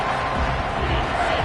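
A large stadium crowd at an Auburn college football game roars steadily late in the fourth quarter after a sack, a dense, continuous wall of cheering and noise with no gaps.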